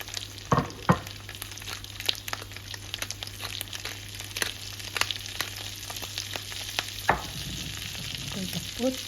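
Salmon frying skin side down in a pan, giving a steady sizzle and crackle with sharp pops and stirring scrapes scattered throughout, close and alone.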